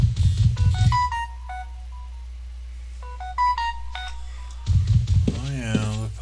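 A telephone in the game Ultima Online sounds a sequence of electronic tone beeps, like a ringtone melody, in two bursts, with talk before and after it.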